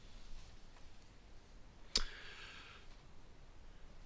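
A single computer mouse click sounds once, faint and alone, with quiet background noise and no talking.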